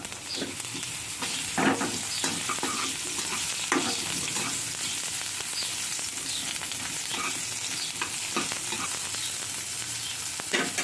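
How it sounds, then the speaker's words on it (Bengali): Pointed gourd pieces fry in hot oil with whole cumin seeds over medium-high heat, giving a steady close sizzle broken by repeated scrapes and clacks of stirring in the pan. "হয়েছে, এবার এর মধ্যে আমি পটলগুলোকে দিয়ে দেবো"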